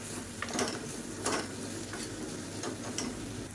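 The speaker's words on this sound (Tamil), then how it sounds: "அந்த காலிஃப்ளவர் மசாலாவை போட்டு பரட்டி விட்டுக்கலாம்" Cauliflower masala stir-fried in a pan, with soft spatula scrapes and a faint sizzle repeating every second or so, quiet and close with no voices.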